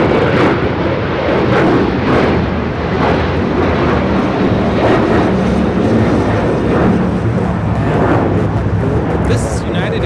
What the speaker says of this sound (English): This is United Airlines 1635 taking off to Washington Dulles on the 737-900 ER